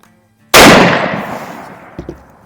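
A single Mosin Nagant rifle shot fired at a target outdoors, a sharp loud crack with a long decaying echo, followed by faint small clicks of handling.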